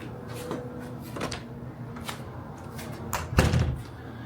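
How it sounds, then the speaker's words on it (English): A hotel room door at the Embassy Suites Anaheim North swings shut with a solid thud near the end, after a few lighter clicks and knocks in a quiet room. "So if I close this door,"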